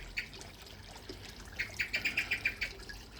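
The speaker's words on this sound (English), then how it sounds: "Blackbird there's waiting for me to move so it can come down and get the food." A blackbird calls beside a koi pond, a single chirp early on, then a quick run of six or seven bright, evenly spaced notes, moderately near over faint background water and ambience.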